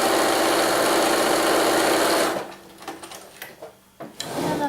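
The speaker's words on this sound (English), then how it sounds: "So I'll sew on both of these marked lines." A sewing machine stitching along marked lines on a half square triangle quilt block, running steadily and close for a little over two seconds, then stopping and giving way to quiet fabric handling and light rustles.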